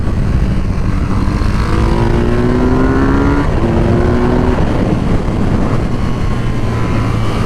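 A tuned 2023 BMW R nineT motorcycle engine heard while riding, a loud continuous drone with rising revs and a gear change midway, over constant wind noise.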